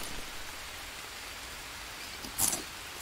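Steady rain hisses in the survival game Green Hell, a soft continuous wash with one brief brighter burst near the end and no talking.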